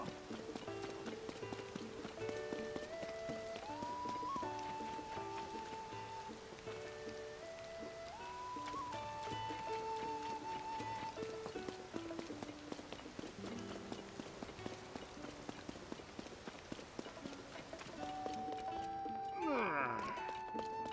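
Rain falls steadily in Zelda: Tears of the Kingdom, a soft continuous patter heard faintly beneath a gentle musical score.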